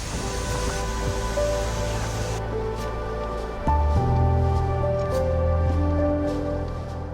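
A steady, loud roar of falling water from a waterfall in South Iceland, one you can walk behind, runs unbroken through the whole stretch, with sustained musical tones layered over it.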